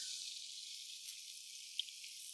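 Green peppers sizzling in a skillet with onions and celery, a steady close hiss that holds without a break and has a faint pop in it.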